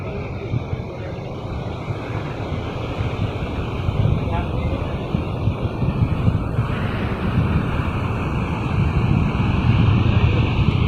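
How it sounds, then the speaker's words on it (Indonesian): Large ocean waves rolling onto Kosakora beach after a storm, a continuous broad roar of surf mixed with heavy wind buffeting close to the microphone, growing slightly louder toward the end. "ombaknya masih besar ya"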